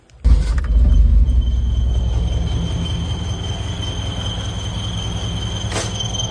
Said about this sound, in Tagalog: Painitin ko muna yung makina.